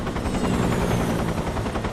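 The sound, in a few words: helicopter in Metal Gear Solid 3: Snake Eater video game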